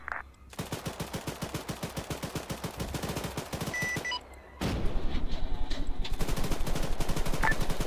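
A main battle tank cooks off in Arma 3, rapid strings of loud cracking detonations rattling off in fast bursts, pausing briefly before a heavier, denser burst of popping explosions resumes near and loud.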